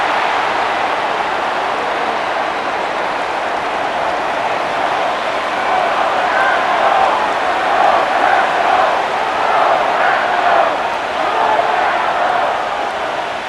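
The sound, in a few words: stadium crowd cheering in Madden NFL 25 video game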